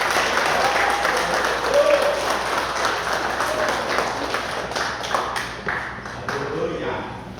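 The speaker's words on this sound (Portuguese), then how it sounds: "Uma salva de palmas para o rei." Congregation clapping at a Portuguese-language church service just after a prayer, a broad wash of applause that gradually thins toward the end, with some voices mixed in.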